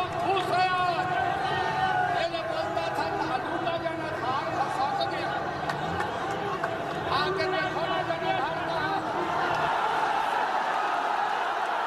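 A large crowd of herders cheers and chatters for the politician Laloo in a city street, a dense continuous babble of voices with occasional whoops, steady and fairly close throughout.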